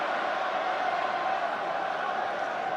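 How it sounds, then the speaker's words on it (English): A large rugby crowd in a Dublin stadium at Ireland v Wales, its roar swelling steadily and staying loud and continuous throughout, a broad wash of massed voices with no single voice standing out. "the crowd beginning to rise here in Dublin."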